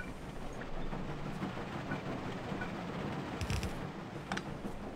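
A train from the game Factorio runs along its rails with a continuous mechanical rumble and rattling clatter, plus a brief sharper clanking burst near the end.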